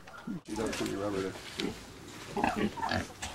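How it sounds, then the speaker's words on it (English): Pigs on a ranch give a few short, rough grunts, mixed in with steady nearby talking. "we have about 5 different types of pigs"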